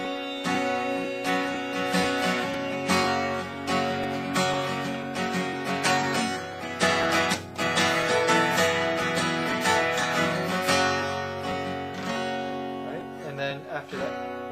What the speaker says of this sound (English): So it mixes in some triplets and some double strums and everything.